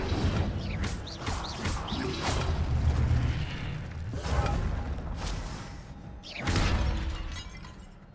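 An Incendio fire spell is cast in Hogwarts Legacy, producing several bursts of crackling, shattering impact sounds over a low rumbling game background, with little speech.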